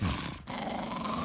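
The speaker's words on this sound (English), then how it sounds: "We found the dog that got Harris" A dog snarls in a low, rough growl that starts strong, dips briefly, then rumbles on steadily and close by, with no voices over it.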